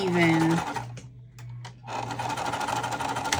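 A sewing machine stitches zipper tape while a pool tote bag is assembled, a steady motor hum that pauses briefly mid-way before resuming, heard close up.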